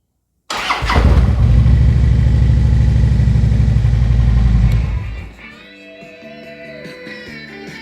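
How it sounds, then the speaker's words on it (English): A 2013 Harley-Davidson motorcycle engine cranks briefly and catches, roaring loudly and steadily up close for several seconds before dropping to a quieter rumble with tonal whine as it settles. "Let's see if she'll crank."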